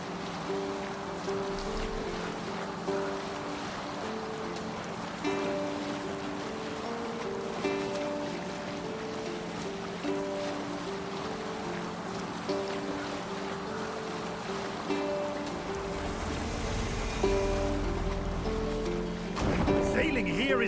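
Viking longship sailing in Assassin's Creed Valhalla, a steady wash of waves and wind under a droning sung tune, with louder water surges near the end.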